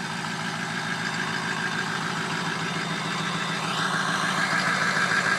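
A Ford 6.0 Powerstroke diesel engine in a pickup truck idles steadily after a cold start, a close, continuous rumble with an even clatter that holds at the same level throughout.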